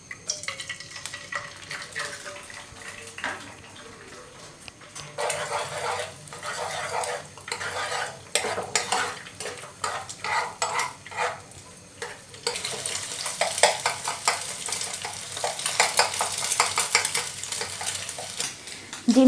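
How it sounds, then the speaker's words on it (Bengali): An egg frying in hot cooking oil in a frying pan, a close, crackling sizzle that surges louder in bursts, with occasional clinks of a utensil against the pan. "তেলটা যথেষ্ট গরম হওয়ার পর আমি এতে একটা ডিম দিয়ে দিচ্ছি।"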